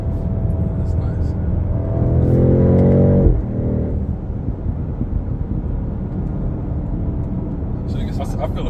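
A 2024 BMW X7 M60i engine swells in a brief revving rise, then drops back to a low, muffled cabin rumble, all under steady conversation from the people inside.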